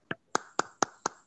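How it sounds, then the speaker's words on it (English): Six crisp, evenly spaced hand claps at an election manifesto event, fairly close and isolated against near silence. "Yeah, you can hear the claps in the background."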